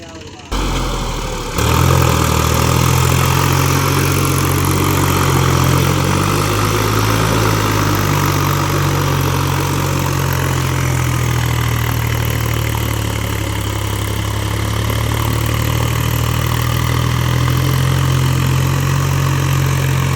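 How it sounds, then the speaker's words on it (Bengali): A Massey Ferguson 254 DynaSmart 4wd tractor engine runs loud and steady while stuck in deep mud, a continuous heavy low drone with slight load changes throughout. "তোমাদের মেসিটা দিয়েই হবে চাকা মারা দেখা যাক কী হয়"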